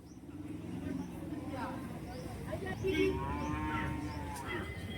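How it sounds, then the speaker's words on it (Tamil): Holstein-Friesian and Jersey cattle moo at a busy rural cow market in Karimangalam, with a low drawn-out call rising over crowd chatter and background voices. "எல்லாம் வந்து வாங்கியிருக்க மாடுங்க"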